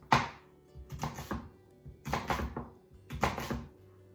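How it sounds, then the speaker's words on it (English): Onions chopped with a knife on a cutting board, about four loud close bursts of quick knife thunks, each a rapid cluster of chops separated by brief pauses. "it's hard to see when you're crying and cutting onions"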